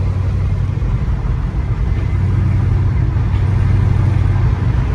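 An LS-swapped S10 pickup with a T56 manual transmission cruises in sixth gear, its engine and road noise a loud, steady low drone heard from inside the cab.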